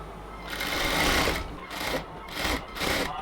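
A sewing machine runs a double stitch along a cotton kameez sleeve, in four short bursts of rapid whirring separated by brief pauses, close and moderately loud with no talk.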